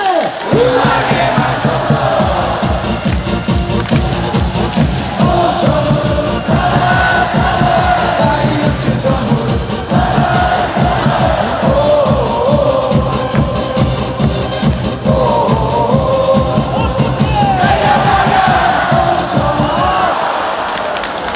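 Lotte Giants baseball fans roar and chant together in the stadium during a game against LG, a loud sustained crowd with rhythmic cheering and whoops carrying on without a break throughout.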